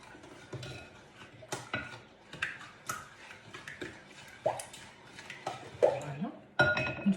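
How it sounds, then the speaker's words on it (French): Muffin batter and oil are stirred together in a bowl, making irregular clinks and scraping taps of a utensil against the bowl, fairly soft and close. "Vous mélangez le tout."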